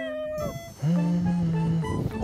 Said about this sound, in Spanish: Un sonido por ahí, un gatico maullando.